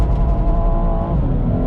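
A BMW M240i pulls away under a steady, loud engine note with a low rumble and some harmonic whine, close and continuous with no voices.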